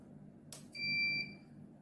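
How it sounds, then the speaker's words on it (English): A Soken DAC-IR-3 direct reading iron loss tester powering on gives a short click, then one steady electronic beep of about half a second, close and clear over a quiet room. "So you'll hear it turn on, beep."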